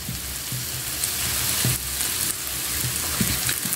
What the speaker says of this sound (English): So I'm now putting my mushroom sauce.